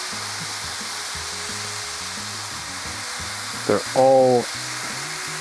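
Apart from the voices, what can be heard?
sausage patties frying on a griddle, being flipped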